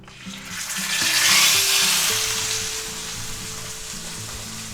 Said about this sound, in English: our pan's smoking hot, so we're gonna go ahead and take our beautiful London broil, and we're gonna put that right in there